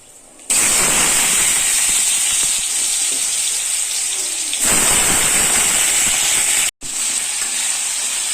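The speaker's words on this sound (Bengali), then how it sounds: "তার জন্য সবার আগে আমি আলুটাকে ভেজে নেব" Potatoes seasoned with salt and turmeric fry in hot oil with a loud, dense crackling sizzle that swells in two bursts, briefly cutting out near the end before resuming, close up and without speech.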